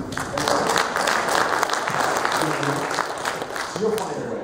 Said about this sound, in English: You should get a round of applause for Chuck Norris.